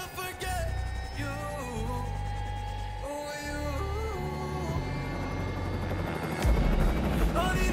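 A helicopter in GTA Online drones steadily with rotor hum and engine tones, layered over game music and effects, loud and continuous throughout.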